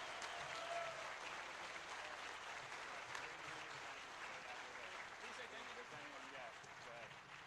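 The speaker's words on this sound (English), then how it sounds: "So round of applause for Timmy Needs a Liver." Sustained applause fills a hacking conference hall at an award ceremony, many hands clapping in a dense, continuous wash heard from a distance, with faint voices mixed in underneath.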